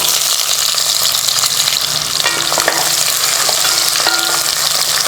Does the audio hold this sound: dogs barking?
no